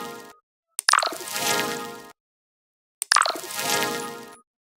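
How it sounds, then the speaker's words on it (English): A wave sound effect plays twice, each time a sharp splash that rises into a rushing, watery swell and then fades, with silence between the two. "you can already hear that there are like waves here"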